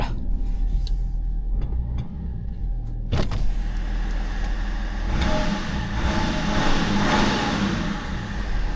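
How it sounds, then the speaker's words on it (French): An inline six diesel car engine hums steadily from inside the cabin, swelling as it revs up partway through, with a sharp click early on. "J'adore le bruit de ce moteur"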